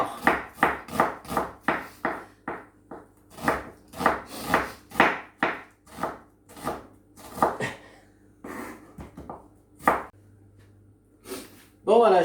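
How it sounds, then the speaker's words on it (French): A knife chops onions on a board for onion soup, a string of crisp, close strokes in an uneven rhythm that thins out toward the end. "j'ai découpé mes oignons, non sans difficulté"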